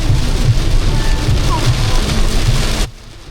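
Heavy rain pours down in a dense, loud, steady patter close by, then cuts off abruptly near the end, leaving near quiet.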